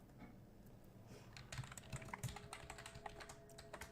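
Keys on a computer keyboard clatter as code is typed, a run of soft, quick clicks growing denser and slightly louder partway through, close to the mic with no voice.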